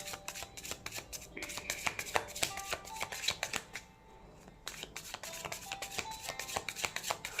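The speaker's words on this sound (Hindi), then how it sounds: "तो चलिए मैं शफल करती हूँ" Tarot cards being shuffled by hand, a run of quick, close riffling and slapping bursts with a short pause midway, no talking.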